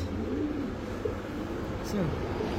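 A large Bole pigeon at a pigeon sale gives a few low, rolling coos, partly masked by a constant background of ambient noise.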